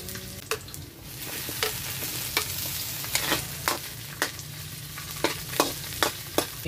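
Onion frying in a pan, a steady sizzle with sharp stirring scrapes and clinks recurring through it, close and moderately loud with no talking.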